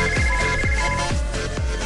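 A mobile phone ringtone plays loudly and steadily, a repeating melodic electronic pattern with regular pulses roughly every half second, with no voices over it.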